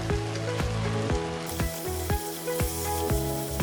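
Fried potatoes and tempe get stirred into a sizzling tomato mixture in a pan, steady frying hiss broken by regular sharp spatula scrapes and knocks against the pan, close up and without talk.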